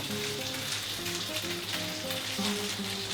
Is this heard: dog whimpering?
no